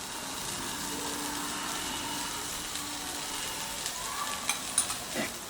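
Two spoonfuls of oil sizzle quietly and steadily in a pan while cooking a street-style egg gravy, a soft continuous fry with a few small pops and stirring clicks near the end.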